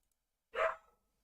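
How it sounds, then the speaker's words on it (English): A single short dog bark sounds from a short distance, a lone sharp yelp in an otherwise quiet room. "That was my dog."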